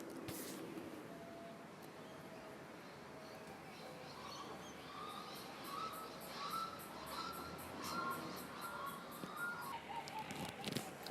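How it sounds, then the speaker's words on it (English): Outdoor birds call and sing, with crows cawing among them, in a repeated chorus of chirps and caws of moderate loudness over a steady background hiss, with no talk. "the birds realised I was recording, and they requested that I instead record their songs"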